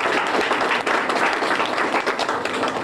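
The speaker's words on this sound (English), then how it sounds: "Please give them a round of applause." An audience at a community gathering claps in sustained, dense applause. It is steady and loud and fills the whole moment without a break.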